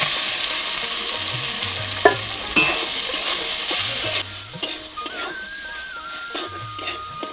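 Paneer, potato and ginger fry in a pan with a dense, crackling sizzle, broken by the scrape and knock of stirring. The sizzle drops a little after the midpoint and carries on alone with no talk.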